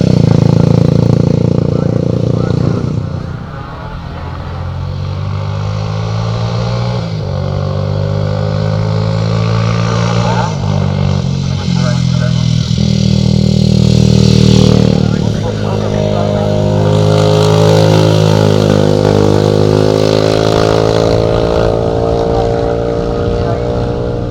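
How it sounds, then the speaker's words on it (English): Ducati 250 motorcycle running at the 2021 Percy Duff Barbon Motorcycle Hillclimb, its engine droning and rising steadily throughout with changing revs, loud and continuous, with other sounds of the event mixed in. "finally we're going to take a look at Peter Wayne's Ducati 250."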